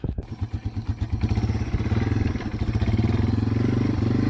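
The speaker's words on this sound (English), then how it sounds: "I'm on Matt's motorcycle because he took my four-wheeler to go get some water" A motorcycle engine runs steadily with a low, rhythmic putter on a construction site with freshly cut topsoil, rising slightly in pitch as the bike moves along, close and loud with no talk.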